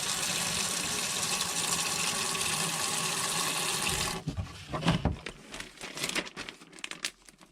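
Tap water gushes steadily into a sink to fill a rinse bath for dyed material, loud and continuous, then stops and gives way to scattered splashes and handling sounds.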